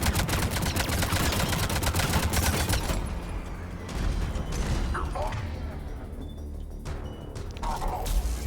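Rapid gunfire with incendiary rounds in the Mass Effect game: a dense, loud stream of shots for the first few seconds, then more scattered bursts and impacts in the combat soundscape.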